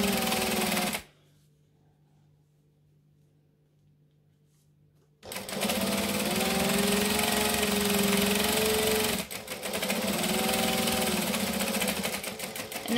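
A sewing machine stitches down a backpack edge 1/8 of an inch in, starting after a silent pause and then running steadily with a close, even mechanical whir and a brief stutter near the end.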